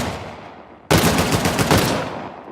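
Rapid automatic gunfire in the video game Uncharted The Lost Legacy bursts in suddenly after a quiet moment, then rattles on loudly and continuously to the end.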